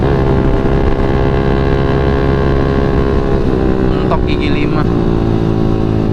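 Yamaha MX King motorcycle on a morning ride with cornering, its engine droning steadily and loudly throughout with dense low-end rumble, rising slightly in pitch near the end.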